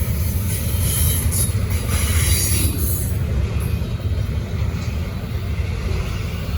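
An SD70ACE locomotive hauls a freight train past nearby, making a steady, loud rumble of wheels and rail noise with faint high squeals, continuous throughout.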